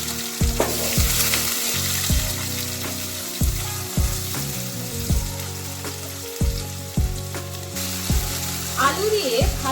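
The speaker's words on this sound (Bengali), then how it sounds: "আলু দিয়ে ভালো করে এটাকে নাড়াচাড়া করে নেবেন।" Potatoes frying in hot oil in a pan for a Bengali dhokar dalna, a steady loud sizzle broken by repeated scraping stirs at a regular rhythm, with no talk over it.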